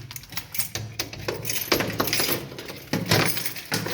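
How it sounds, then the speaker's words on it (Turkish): Metal keys jangling and clinking in bursts as a door is locked, close and fairly loud, with short rattling clusters spread across the whole moment. "Şimdi kapıyı kilitleyeceğiz."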